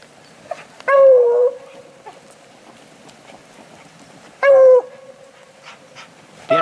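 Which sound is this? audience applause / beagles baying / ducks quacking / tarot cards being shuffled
beagles baying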